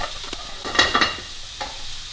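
Oil heating in a frying pan, giving a soft, close sizzle with a few brief clattering stir sounds and no talking.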